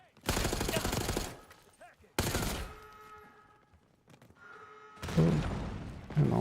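Video game gunfire comes in two dense rapid bursts, loud and close, with a third burst starting near the end; a voice talks faintly between them.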